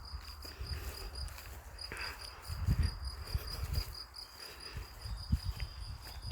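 Crickets chirp in a garden with a steady, high, pulsing trill that runs throughout, fairly soft, over low rumbling outdoor noise and a few dull knocks.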